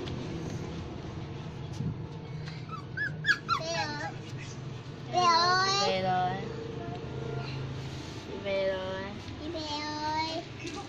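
A poodle whimpers and squeals in high, wavering cries while being given a vaccination, the yelps coming in bursts close by over a low household hum, with people, including a child, speaking at times.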